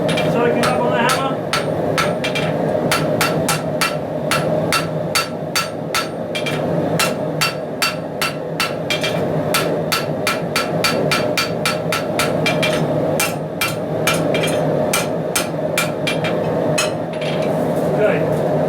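Steady, rapid ringing blows from a power hammer forging a 5160 steel round bar into a blade, loud and continuous with a dense metallic clatter running the whole time and no talking.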